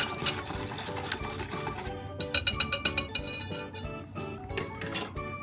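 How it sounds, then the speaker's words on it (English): Whipping cream and brown sugar stirred together in a bowl, a utensil clinking and scraping against the sides in quick irregular taps, close and fairly quiet with no talking. "I am going to add that to my 3/4 of a cup, the remaining 3/4 of a cup of brown sugar, and I'm just going to mix that together."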